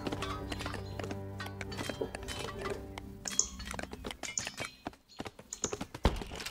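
Rapid clip-clop of several horses' hooves in the strategy game 0 A.D., a busy clattering rhythm with faint mechanical clicks mixed in, no voices.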